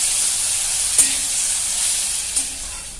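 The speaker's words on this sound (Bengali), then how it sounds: "পেঁয়াজটাকে আমি পুরো গোল্ডেন ব্রাউন করে ভেজে নেব।" Onions fry in oil for a katla fish curry, a constant loud hissing sizzle close by, with two brief stirring clacks.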